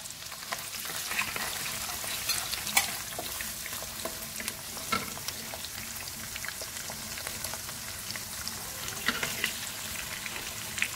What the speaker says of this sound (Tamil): இப்போ இந்த வெங்காயம் பூண்டு இஞ்சி அனைத்தும் நல்லா கோல்டன் கலரில் வர அளவுக்கு வெயிட் பண்ணுங்க